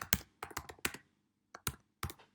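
Close, crisp keystrokes on a computer keyboard tap out in short irregular bursts, about eight clicks with a brief pause in the middle.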